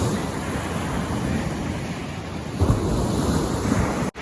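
Waves wash onto the shore of the sea in Odesa region on a foggy day, a continuous broadband rush with some wind on the microphone, slightly surging partway through before cutting off abruptly at the end.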